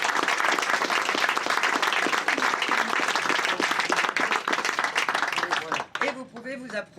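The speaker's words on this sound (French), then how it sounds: "C'est bien de vous applaudir avant." Audience applause at a Lions Club leadership handover ceremony on Île de Ré, steady dense clapping filling the room for about six seconds before fading out as voices begin talking.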